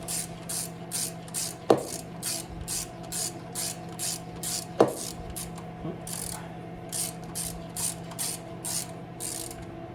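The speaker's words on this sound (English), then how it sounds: "now what we're gonna do is we're gonna tighten down our 10mm bolts" Ratchet snugging 10mm bolts on a Jeep Cherokee XJ 4.0L engine, with repeated rhythmic clicking strokes close by over a steady background hum, broken by a couple of sharp metallic knocks.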